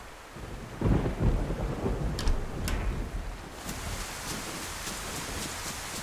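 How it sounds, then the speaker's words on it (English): Thunderstorm with heavy rain in the DayZ woods of Livonia: a low rolling thunder rumble swells and fades over a steady hiss of falling rain, with a few sharp crackles near the middle. "it's sort of storming really hard"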